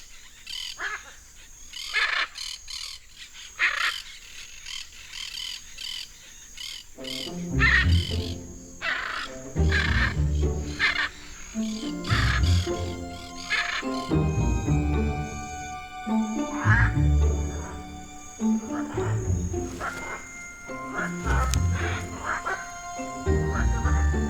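Loud, harsh bird calls repeat again and again, several hyacinth macaws squawking close by in irregular bursts, with a steady higher tone running underneath.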